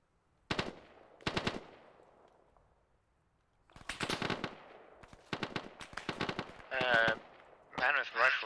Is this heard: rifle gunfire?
yes